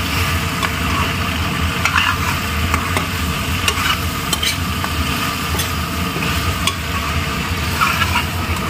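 Loud, steady sizzling of food frying in a pan, with scraping stirring noises throughout and no voices.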